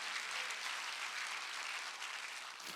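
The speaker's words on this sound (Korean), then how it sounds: "박수로 하나님께 영광드립니다." A church congregation applauds during a Sunday worship service, a steady dense wash of clapping from many hands that holds evenly for a few seconds.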